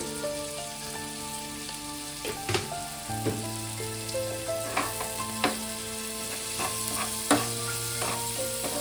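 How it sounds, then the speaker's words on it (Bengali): Salted onions fry in a pan with a steady sizzle, while a utensil stirs them in periodic scraping strokes and soft music plays underneath. "দিয়ে মিনিট 2 আমি এইভাবে নেড়ে পেঁয়াজটাকে একটু ভেজে নেব।"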